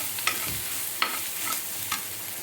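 Ground spices and garam masala stirred in a hot pan for a curry, a constant soft sizzle broken by three or four sharp scrapes of a spoon against the pan.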